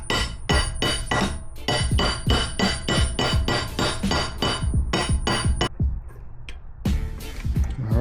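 A rubber plug is being tapped into a hose on a Riva 125 scooter, struck in a steady run of sharp metallic taps about four a second, then a pause and a final cluster of taps, loud and close.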